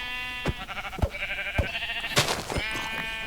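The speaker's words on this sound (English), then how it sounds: "I'm gonna kill these sheep" Sheep in Minecraft bleat several times in a row, short wavering cries spaced about half a second apart, fairly close and loud over a faint background hum, with no talking.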